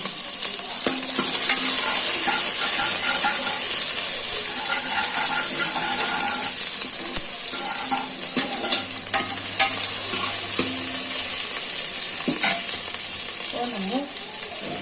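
Mutton gravy ingredients fry in hot oil with a steady, busy sizzle and occasional stirring clatter, continuous and close, with a voice speaking now and then over the cooking.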